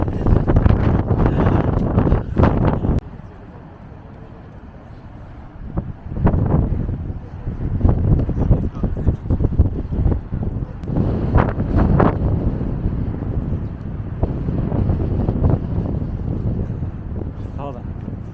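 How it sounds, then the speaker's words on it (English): Strong coastal wind at the Cliffs of Moher in Ireland pounds the microphone in loud, rumbling gusts, briefly dropping before surging back and buffeting hard for most of the stretch. "The cliffs are absolutely beautiful, unreal. The wind is pushing me."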